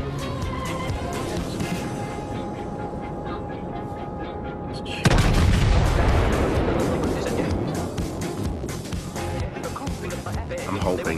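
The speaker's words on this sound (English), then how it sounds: "Fire aft guns." Battleship aft guns firing in the World of Warships naval game: a single heavy boom cuts in midway and rolls into a long rumbling tail, over a steady engine hum and ongoing talk.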